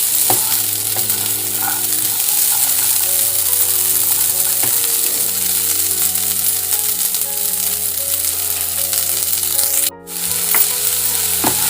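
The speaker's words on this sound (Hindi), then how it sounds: "मटर डाल के इसको 1 मिनट तक भूनना है।" Peas roasting in a pan for a paratha filling give a loud, steady sizzle with stirring, while a low droning hum with shifting tones runs underneath; a brief dropout falls near the end, and nobody speaks.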